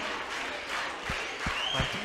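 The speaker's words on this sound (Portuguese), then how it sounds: "Eu vou pedir a vocês uma salva de palmas para o William" Audience applause in a Brazilian classroom review session for the UERJ 2023 exam, a steady wash of clapping from a crowd filling the whole short stretch, with a few low thumps near the end.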